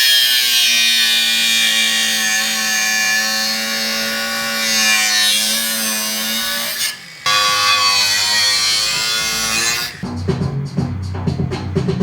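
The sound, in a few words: drilling a hole through old engine parts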